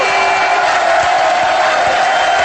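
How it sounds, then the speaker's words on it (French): A television studio audience erupts in a continuous loud roar of clapping and cheering that fills the whole moment without a break. "Donc il faut l'applaudir"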